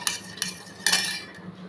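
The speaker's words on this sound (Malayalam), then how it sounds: "ഒരു സ്പൂൺ ഉപയോഗിച്ചിട്ട് മിക്സ് ചെയ്ത് കൊടുക്കാം" A spoon stirs seasoning in a bowl for fried chicken, scraping and clinking in three distinct strokes followed by softer scraping, close up with no voices.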